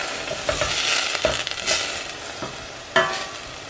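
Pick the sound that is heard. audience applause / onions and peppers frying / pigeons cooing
onions and peppers frying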